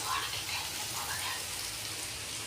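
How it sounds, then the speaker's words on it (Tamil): Two thinly sliced onions with curry leaves sauté in a pan, giving a steady, dense sizzle that stays even throughout. "ஆனியன் வந்து 2 ஆனியன் மெலிசாக கட் பண்ணிவிட்டு கருவேப்பிலை போட்டாச்சு, வதக்கிட்டுருக்கோம்"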